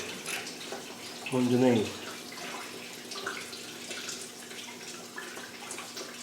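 Coolant drains from a 300Tdi engine block into a bucket, a steady close splashing pour that runs through the whole stretch while someone talks over it.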